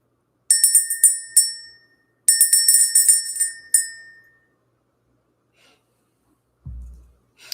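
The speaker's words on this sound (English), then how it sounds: "Let's ring this bell." A small hand bell rings near and loud during a spiritual energy-clearing ritual, in two bursts of rapid repeated strikes, each left to ring out before silence and a soft breath at the end.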